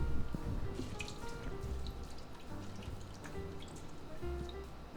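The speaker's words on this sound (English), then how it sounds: "Now we just add our whole can of mixed vegetables." Vegetables from a whole can tumble into an Instant Pot for chicken and rice, giving a soft wet clatter and dribbling liquid sounds, close and fairly quiet, with small drips and splashes over several seconds.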